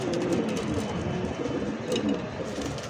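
A male pigeon coos in low, throaty, repeated bursts nearby, with some faint background noise.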